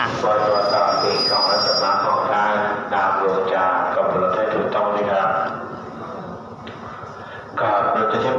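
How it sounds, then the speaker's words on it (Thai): Express train No. 107 on the Bangkok–Den Chai line stands at Chum Saeng railway station in Thailand. A loud, continuous rumble runs throughout, with screeching wheel squeals and faint voices mixed in. "รถเรยวเที่ยวแรกนะครับ ที่จอดสถานีรถไฟชุมแสง"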